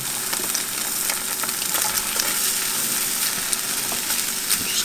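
Eggs and ham frying in a pan, a steady close sizzle with crackling pops and occasional stirring scrapes, no voices.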